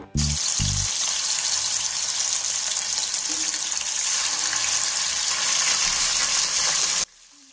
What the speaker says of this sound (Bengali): কড়াইয়ের মধ্যে তেল দিয়ে তেলটা গরম হয়ে আসলে মাছগুলো এর মধ্যে দিয়ে একে একে ভেজে নেব